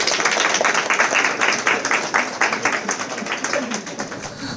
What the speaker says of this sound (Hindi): हमारे महामहिम राजदूत पवन कपूर सर का तालियों से अभिनंदन करें।